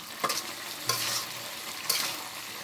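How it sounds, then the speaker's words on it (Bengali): Fresh broad beans stirred in a pan after the lid comes off, with a soft steady sizzle underneath and three brief scraping strokes spaced about a second apart. "ঢাকনাটি সরিয়ে সিমগুলো ভালো করে নাড়াচাড়া দিয়ে দেওয়া হইতেছে"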